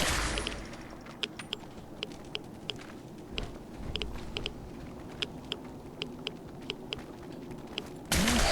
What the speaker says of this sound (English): we can get up here and then just open fire from here